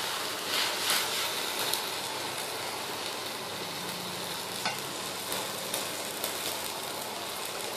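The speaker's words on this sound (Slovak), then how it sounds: "Keď sa nám to začne variť, pomiešame, vyskúšame, či je to už mäkké" Tarhoňa pasta simmering in a pot while being stirred, a quiet, continuous bubbling sizzle with a few faint scrapes and clinks of the spoon, heard alone.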